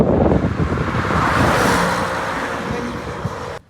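An Alpina 310 car sweeps past on an outdoor road at a supercar meet, a loud broadband roar with wind buffeting that holds steady for about three and a half seconds before cutting off.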